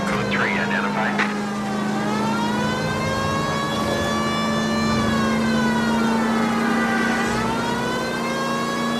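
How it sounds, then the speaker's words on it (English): A police car siren wails in the game L.A. Noire, a loud continuous rising and falling tone over a low engine drone, with a brief whooping burst near the start. "Please, Phelps, the siren."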